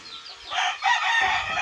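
Gamecocks crowing loudly and close, one drawn-out crow following another, with clucking mixed in among the fighting roosters.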